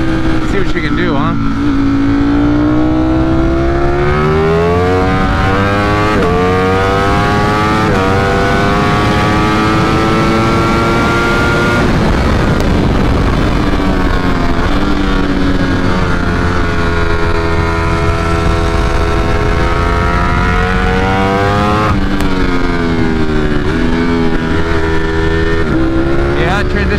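A 2020 Ducati Streetfighter V4 with a flash-tuned ECU accelerates hard through the gears, a loud close engine whine rising in pitch and dropping at each shift, with wind roar and a rider's voice over it.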